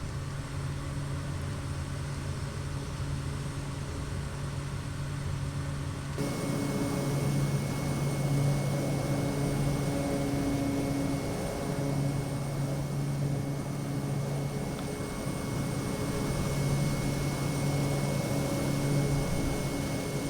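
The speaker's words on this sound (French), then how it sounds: "Le bruit du turbopropulseur, moi je trouve ça c'est très agréable." A steady, loud turboprop engine drone from a Kodiak 100 aircraft in flight around Saint-Barthélemy fills the whole stretch, a continuous hum with a faint tonal whine and no talking.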